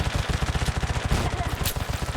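Rapid automatic gunfire in the survival shooter game Undawn, a steady loud burst of closely spaced shots running throughout without pause.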